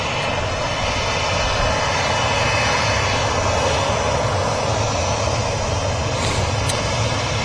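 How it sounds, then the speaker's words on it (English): Ryanair Boeing 737-800 airliner arriving at Manchester Airport, a continuous loud roar of jet engines at steady level throughout, with no talk. "Another Ryanair 737-800 arriving."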